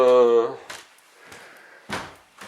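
A door being closed indoors, with a couple of short knocking thuds and a firmer bump near the end, following a brief stretch of speech at the start.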